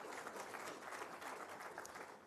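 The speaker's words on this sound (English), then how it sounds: "Can we also give a round of applause for that?" A steady wash of audience applause fills a hall at an official ceremony for the release of national school exam results, faint and distant, with no talk over it.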